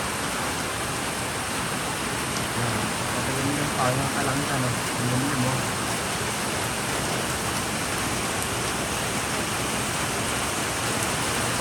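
Steady rain pours onto tents and outdoor gear, a dense, continuous wash of noise that never lets up, with a person talking faintly underneath it.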